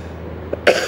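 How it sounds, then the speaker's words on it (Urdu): A man recovering from a bad cold gives a single short, sharp cough close up after a faint breath, then a brief rasp trails off. "کھانسی کا اثر ہے، ابھی کھانسی ابھی ختم نہیں ہوئی ہے پوری طریقے سے"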